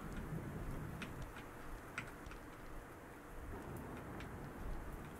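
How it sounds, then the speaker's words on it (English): Rain falls steadily in an RPG Maker horror video game, a soft continuous hiss with scattered faint drips and ticks, quiet and even throughout with no voices. "Yay! Yay! It's raining! Rain on this nightmarish parade!"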